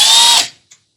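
A power drill with a 9/64 bit whirs briefly while marking mounting holes on a 2017 Toyota Tacoma, a loud close burst of about half a second that quickly winds down, followed by a tiny click.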